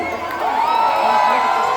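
A cheering squad crowd shouts and screams together in a sustained, loud, tonal roar of many voices as a song is announced, swelling slightly after the first half second.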